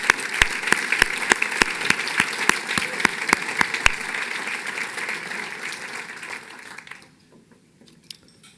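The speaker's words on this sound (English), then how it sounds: "Please join me in a round of applause for your HFTP leadership." Audience applause from a crowd at an association's annual business meeting and awards luncheon, with a few sharp, regular claps standing out, steady for several seconds before fading away to near silence.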